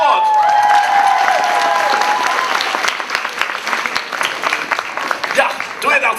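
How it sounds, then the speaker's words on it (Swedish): Warm audience applause and cheering at KultCon, a fan convention, before the cosplay contest: steady dense clapping with a few shouts and whistles, fading toward the end. "Allihopa. En varm applåd!"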